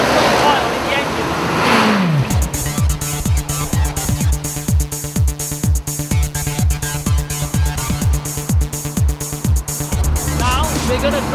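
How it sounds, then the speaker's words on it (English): Car engine running with no engine oil while driving, pulsing with a rapid, regular knocking rhythm at steady revs after a rising rev at the start, loud and close throughout. "just to prove that this engine can drive smoothly without any oil in it"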